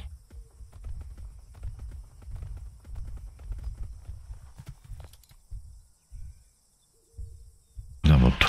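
Heavy horse footsteps in the video game Atlas, clip-clopping in a steady run of thuds that pause briefly near the end before a loud burst, with faint speech-like sound under them.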